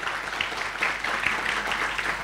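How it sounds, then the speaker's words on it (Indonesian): An audience at a CIFP 2024 conference session on Indonesia's foreign policy claps steadily and fairly loudly for a couple of seconds, with a faint voice underneath. "tepuk tangannya dulu boleh?"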